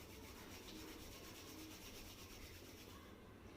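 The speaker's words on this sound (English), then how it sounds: "Rub your palms on each other" Palms rubbing together briskly, a continuous soft close-up friction hiss that stays even throughout.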